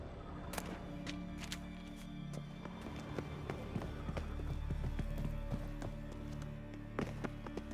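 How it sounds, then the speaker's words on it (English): Footsteps in The Witcher 3: a quick series of crisp, tapping steps over a low ambient hum, fairly close and irregularly paced. "Footsteps."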